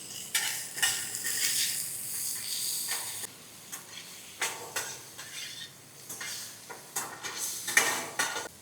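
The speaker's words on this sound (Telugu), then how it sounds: "ఇప్పుడు లైట్గా ఆయిల్లో వేపుకుందాం ఈ 2 కలిపి." Onions and tomato fry lightly in oil while a utensil scrapes and clinks against the pan, a soft sizzle running under the intermittent stirring knocks.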